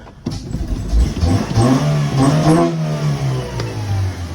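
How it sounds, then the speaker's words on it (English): An EM2 Honda Civic engine with stock exhaust cranks and catches, then revs up and down loudly several times, close by, with a deep rising and falling roar and loud intake noise. "intake does make a lot of noise. It's still on the all stock exhaust."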